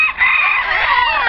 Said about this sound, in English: a banded rooster that lives here without any requirement for cover came running over